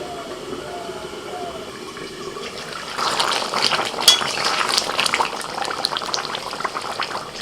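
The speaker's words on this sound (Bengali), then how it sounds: "আলু মাংস ভালোভাবে সেদ্ধ হয়ে গেছে একটু ঝোল রেখে নামিয়ে নিচ্ছে" Mutton curry with potatoes bubbles in a pot, a soft watery churning that grows louder and more agitated midway, with a voice speaking over it.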